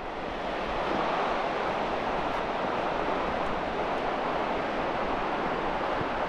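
Sea waves break on the beach at Brean in the Bristol Channel during a fishing session: a continuous, dense wash of surf and wind, loud and unbroken, with no voices.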